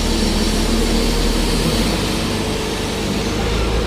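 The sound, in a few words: wheel loader loading road salt into a truck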